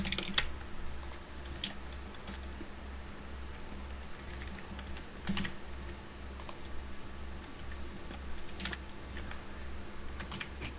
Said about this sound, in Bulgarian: Пишем паролата, че е силна